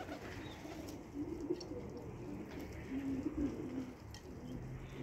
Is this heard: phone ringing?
no